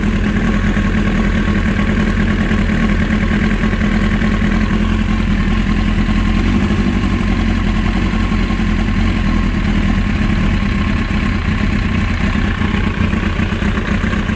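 A motorcycle engine idles steadily during carburetor sync adjustment, a loud, close, continuous low rumble with an even tone throughout and no talking.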